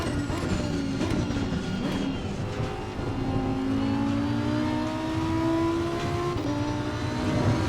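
Sim racing game car engine running loud and steady, revving with rising and falling tones as it downshifts, wheel force feedback on a Simucube 2 Ultimate direct drive wheel, continuous throughout with no talking.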